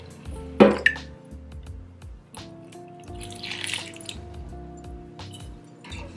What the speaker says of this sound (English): I'm just gonna pour the water that I had it propagating in.